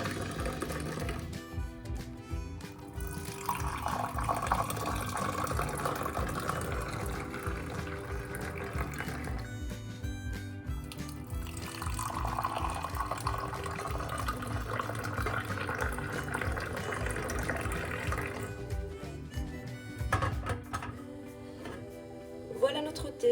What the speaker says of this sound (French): je vais verser un verre ou deux avec vous pour voir le résultat.